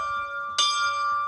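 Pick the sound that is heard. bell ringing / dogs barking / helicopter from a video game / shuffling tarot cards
bell ringing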